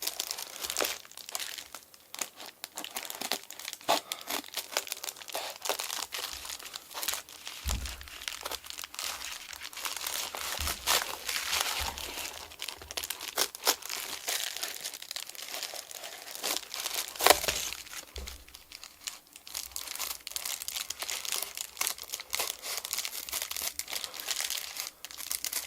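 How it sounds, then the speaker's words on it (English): Scissors cut a circle out of a material for a craft project, producing repeated crinkling snips and rustles, close and fairly quiet, in an irregular rhythm over about twenty-five seconds with no talking. "So here I'm just going to use the scissors real quick and cut that out."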